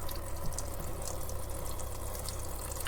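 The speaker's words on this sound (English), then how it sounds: "I'm just going to try to pump all the water that I can out of this" A van's water pump pushes water into a tub set in a sink, giving a steady, continuous rushing pour with a low hum underneath, unbroken and moderately quiet.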